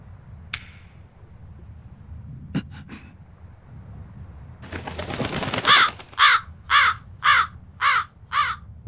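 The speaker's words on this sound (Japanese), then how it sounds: "カラスがコインを加えていっちゃったよ。" A crow in a video game caws about six times in a harsh, evenly spaced run near the end. A flutter of wings comes just before, and a few sharp clicks and taps sound earlier.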